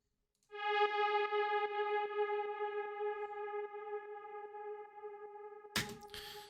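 A sustained synth tone rings out under full 100% reverb with a long decay in a hard techno production, holding steady with faint rhythmic ticks before a burst of noise cuts in near the end.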